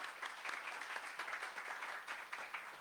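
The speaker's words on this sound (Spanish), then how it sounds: "Entonces también un fuerte aplauso." The audience at an authors' gathering gives sustained applause, a steady, moderately distant patter of many hands clapping with no pause.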